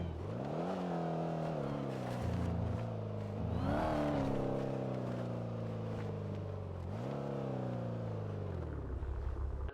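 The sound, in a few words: bus engine revving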